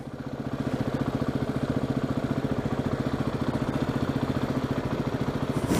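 A motorcycle with a sidecar rides past in Fairbanks, Alaska. Its engine gives a rhythmic, chugging pulse that swells in and holds steady, close by and with no talking.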